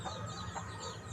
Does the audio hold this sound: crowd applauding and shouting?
no